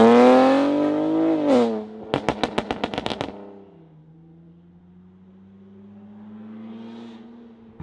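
A 2025 BMW M4 Competition, modified to 1000 horsepower with all-wheel drive, gives a rising whine, then a quick burst of sharp cranking clatter as the engine catches, settling into a low, steady idle that swells slightly near the end.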